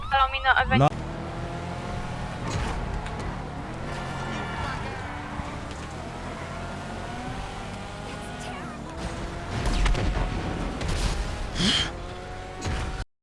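Cars race and roar through a chase in the video game GTA V, with engine drone swelling and fading throughout and people talking over it.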